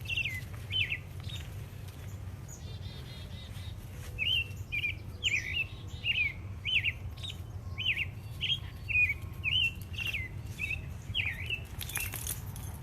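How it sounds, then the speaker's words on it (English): A songbird repeats short bright chirping phrases, about a dozen in a row, outdoors in nature over a low steady background hum. The calls are fairly faint and distant, with no one speaking. "I don't know if you can hear that magical bird"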